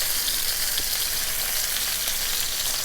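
Bacon frying in a skillet on the stove, a steady close sizzle and crackle of hot fat with no breaks.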